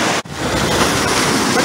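Ocean surf at Poipu Beach makes a loud, broad, continuous roar mixed with wind buffeting the microphone, close and steady after a brief dip at the start, with no clear speech.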